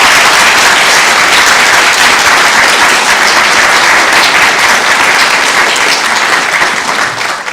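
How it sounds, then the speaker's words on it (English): A graduation ceremony audience applauds loudly and steadily, dense clapping filling the hall without pause before tapering slightly at the very end. "How about a round of applause?"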